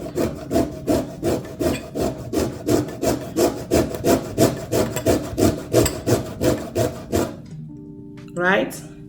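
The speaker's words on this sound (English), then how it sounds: "I'm grating in the lemon skin because it also contains brightening" Lemon skin rasped against a grater in quick, steady back-and-forth strokes, about twenty rhythmic scrapes, close and clear, stopping near the end.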